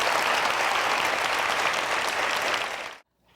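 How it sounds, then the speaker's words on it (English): An audience at a university convocation claps in a dense, sustained wave of applause that fills the hall, then cuts off sharply into near silence at the end. "Now, clap for them and welcome them to Cal State Northridge."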